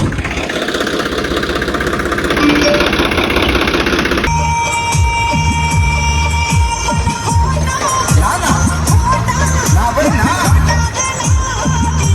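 A Blue Horse 63 tractor with a rotavator attached, its engine running loud and close, a rough steady idle that shifts partway into a deeper, throbbing rumble with knocking pulses.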